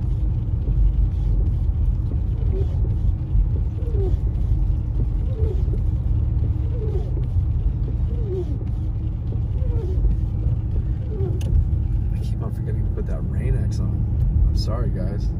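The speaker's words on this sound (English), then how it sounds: "We're just driving around the lake to get back." Car driving slowly on a snowy road around Big Bear Lake, a steady low engine and tire rumble continuing throughout, close and even, with faint crunching over snow and ice and no one talking.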